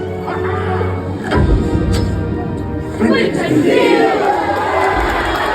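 A cartoon crowd cheers and roars in a steady wash of noise, swelling in two louder bursts partway through and near the end, with voices mixed into the din.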